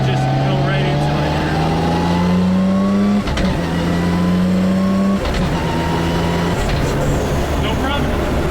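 Nissan R33 engine revving hard under acceleration, its rising drone cut by two quick clutchless sequential upshifts, each leaving a brief dip before the pitch climbs again, loud and close from inside the car.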